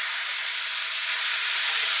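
Pieces of pork sizzle loudly in a hot pan while being stirred and turned, browning for a pork and pineapple stew; an even, close, continuous hiss with no talking.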